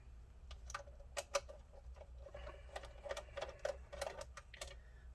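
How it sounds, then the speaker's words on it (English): Screws holding the power supply come out of the back of a Dell Optiplex 7010 desktop computer, making a quiet run of quick metallic clicks and ticks at close range, with no talking. "on the back there are 3 screws holding the power supply in place"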